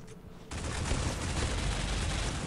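Loud, dense video game gunfire in a busy multiplayer match bursts in after a brief quieter lead-in, then rattles on continuously as sustained rapid shots and overlapping fire with no pauses.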